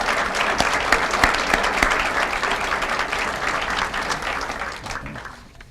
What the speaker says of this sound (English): If we get one final applause for all of our outstanding students and their dedicated educators